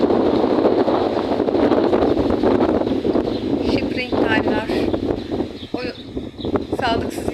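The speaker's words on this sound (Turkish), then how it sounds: "O rüzgardan çekim de yapılmayacak belli." Strong wind buffets the microphone in a constant roar, with rustling and a few faint chirps poking through.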